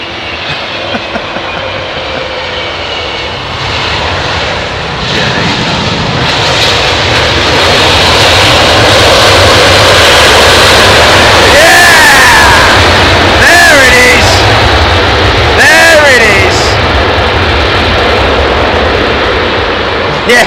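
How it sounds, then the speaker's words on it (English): A Pratt & Whitney powered Boeing 767-300 lands at London Heathrow in low visibility, its engines swelling into a loud, sustained roar of reverse thrust with whining tones, while someone talks over it. "Pratt & Whitney power, folks, on that 763. And wow, what a display of reverser thrust."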